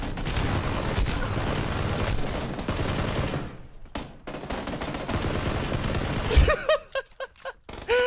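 Rapid bursts of gunfire from a first-person shooter video game fill most of the clip, dense and loud. They break off near the end into a few scattered, sharper shots with gaps between them.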